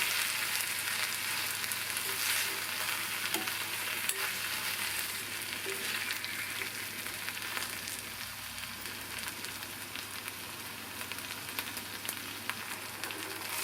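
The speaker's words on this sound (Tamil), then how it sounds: "இது கொஞ்சம் நேரம் அந்த எண்ணெயிலேயே வதங்கினா போதும்." Eggplant sautéing in oil in a pan for a poriyal, an even, continuous crackling sizzle that stays steady and fairly soft throughout with no talking.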